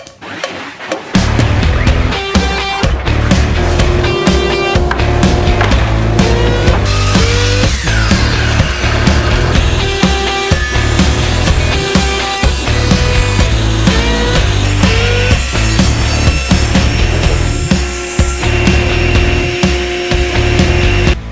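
A table saw squares the face of lumber boards, whining steadily with repeated rough cutting bursts as the wood is fed through. The sound is loud and close, with no talking.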